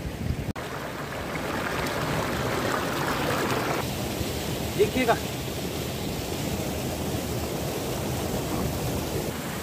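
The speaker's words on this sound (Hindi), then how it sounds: "पीछे देखिए झरना कितना शानदार बह रहा है, बर्फ के मध्य में से" A waterfall flows through snow and ice at Koksar near Manali, a steady, broad rushing wash of water heard from a distance, with a brief voice speaking partway through.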